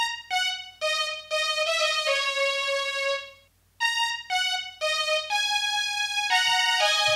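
A string-like lead melody plays on a Korg M1 VST synth, with sustained bright tonal notes stepping through a short phrase alone, broken by a brief pause before the line resumes.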